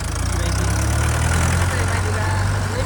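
A tractor engine idles in a village, a steady, close, low rumble that holds unchanged for a few seconds.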